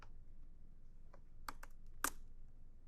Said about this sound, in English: but now you can type